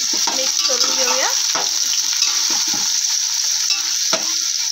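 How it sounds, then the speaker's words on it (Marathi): Three finely chopped onions fry in oil for chicken biryani, giving a loud, steady sizzle. Several faint metallic clinks and scrapes sit on top of it. "तर कांद्याचा कलर चेंज होत तर आपण तेलामध्ये फ्राय करून घ्यायचं."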